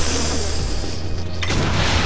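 Explosions in the Saints Row The Third video game: a dense, continuous rumbling blast with low booming energy throughout and a sharper burst near the end, loud and without talk.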